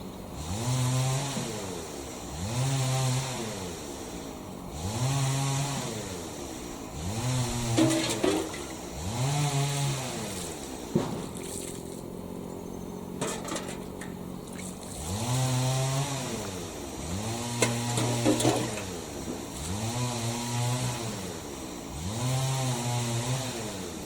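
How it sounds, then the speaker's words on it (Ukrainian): A chainsaw engine cutting firewood revs up and down in steady repeated cycles, some distance off, with a short lull in the middle. "люди косять траву або, можливо, ріжуть дрова бензопилою"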